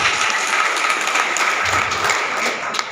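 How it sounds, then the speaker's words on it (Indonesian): Audience applause at a Youth Pledge Day commemoration in Indragiri Hilir, Riau, a sustained crowd clapping with a dense, even patter for about three seconds. "Tepuk tangan dulu untuk saya."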